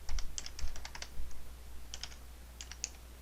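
A computer keyboard typing a username and password to log into Canvas, heard as close, crisp keystrokes in quick bursts separated by short pauses, with a low hum underneath and no talking.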